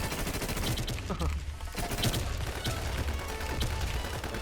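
Dense gunfire in the online survival shooter WarZ, rapid bursts and overlapping shots with mechanical clatter, loud and continuous across the whole stretch.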